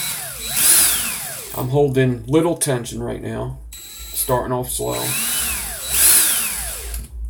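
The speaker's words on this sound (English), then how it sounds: "I'm going to put my drill in the forward" Power drill in forward turning to twist wires together, starting slow under tension, its whine rising and falling in two bursts while someone talks over it.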